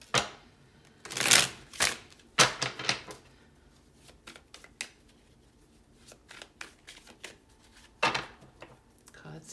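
Tarot cards shuffled in several quick riffling bursts, loud and close, with softer taps and card handling between, no talk.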